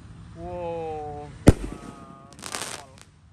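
A Mercon roman candle firework fires with one sharp loud pop followed by a fainter crackling burst, while a person talks briefly beforehand.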